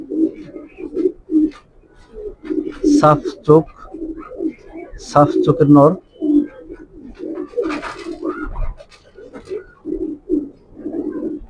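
Pigeons of mixed colours, red checker, grizzle and others, coo repeatedly in a loft while someone talks over them throughout.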